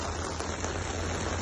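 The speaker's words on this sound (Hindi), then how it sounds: "बारिश चालू है बहुत तेज" Heavy rain pouring outdoors near a river, a loud, dense, unbroken hiss of falling drops with no talk.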